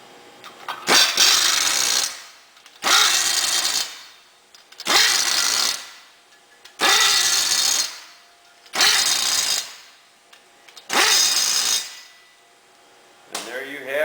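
A power tool with a 12-point socket turning a bolt on a small block Chevrolet crank adapter, running in six even bursts of loud whirring with short pauses between them, close by.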